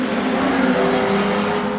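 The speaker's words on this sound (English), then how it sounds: "Daniel Barton's got stuck behind the back marker as they come up the main straight with 1 to go." Street stock race cars thunder down the main straight of a speedway, a loud, continuous engine roar from several cars at close range with no break across the brief moment.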